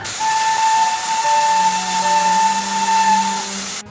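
A steam locomotive's whistle blows long and loud as the train pulls into a station, a sustained shrill tone with a second lower tone joining partway, over a steady hiss of steam.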